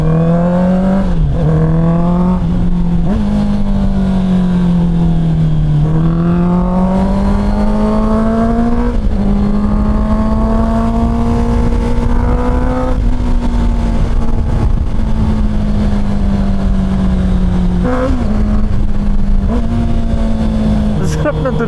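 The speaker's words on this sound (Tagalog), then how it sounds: "Sarap ng tunog ng inline 4." A Honda CBR650R inline-four motorcycle engine runs loud and close, its pitch rising and falling through repeated throttle blips and sustained revs over about twenty seconds, with a steady drone between changes.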